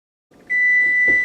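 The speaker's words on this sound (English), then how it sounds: "And our timer has gone off" A kitchen oven timer sounds a single sustained high electronic beep, loud and close, starting after a moment of quiet and running to the end.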